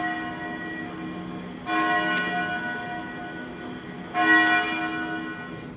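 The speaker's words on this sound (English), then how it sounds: "The bell invites me." A tolling bell sounds in two long, sustained strikes several seconds apart, each ringing out with rich humming overtones over a steady low background.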